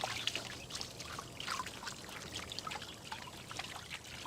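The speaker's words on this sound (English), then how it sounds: "just wash it off with water." Water trickles and splashes steadily as it rinses soap lather of sugar and lemon juice off hands, soft and close.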